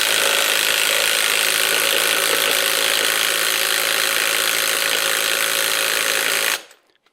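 Ryobi impact wrench fitted with a bit, hammering steadily against a stubborn nut it fails to loosen, a loud unbroken rattling drone for over six seconds that cuts off abruptly.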